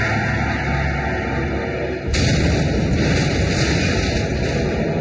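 A car that has left the road explodes with a sudden loud burst, followed by a dense, sustained roar of flames that continues to the end.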